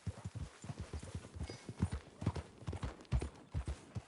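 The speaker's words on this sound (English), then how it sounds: "That a new horse?" Horse hooves clip-clopping in Red Dead Redemption 2, a steady trotting rhythm of close, distinct hoofbeats with no talk over them.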